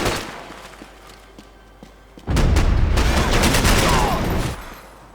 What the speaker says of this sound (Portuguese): Continue atirando!